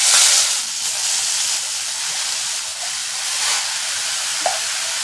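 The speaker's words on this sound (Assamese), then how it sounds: "গ্ৰেটেড গাজৰখিনি ইয়াতে দি দিম।" Grated carrot fries in ghee in a kadai over a medium flame, making a continuous, close, hissing sizzle with gentle swells and a faint stirring clink near the end, with no voices.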